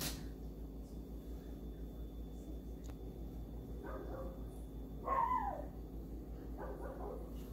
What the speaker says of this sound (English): My neighbor's dog is barking, and Lucky ran outside to join in.